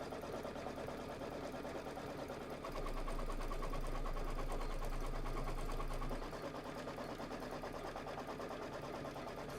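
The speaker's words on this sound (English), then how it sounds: "And then we're going to stitch out the template." A sewing machine stitching out a quilt template for a table topper runs with a steady, fast mechanical whir, growing louder and deeper through a middle stretch before settling back to its quieter hum.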